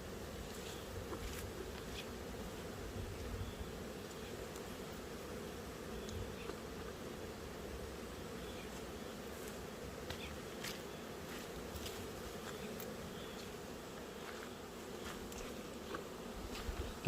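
A steady, low buzz of hornets flying around a beehive hums continuously, faint and unbroken throughout.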